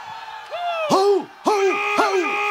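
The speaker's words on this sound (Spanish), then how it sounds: "Y el grito de todos los machos." Men in a festival crowd at a gastronomic fiesta in Lumaco, Chile, answer with repeated loud whooping "oh" shouts, three or four rising and falling calls in quick succession, close and boisterous.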